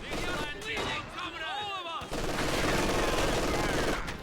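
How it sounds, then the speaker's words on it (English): Machine gun fire and booming battle sounds from a Company of Heroes 2 match, steady and dense through the second half, with a commentator's voice over the first two seconds. "MG opening up in the centre."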